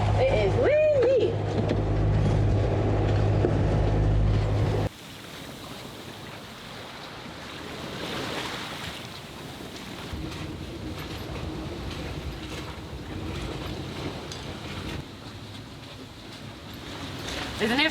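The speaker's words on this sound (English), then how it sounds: "It's really, really windy out" Strong wind roars steadily across the open water on a sailboat, with broadband rushing noise and the wash of waves against the hull, loud at first then settling.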